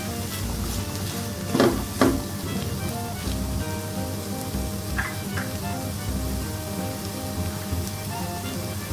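Smashed potatoes are stirred in a hot pan for a vegetable Frankie roti filling, a steady close sizzle with a few louder scraping stirs near the start.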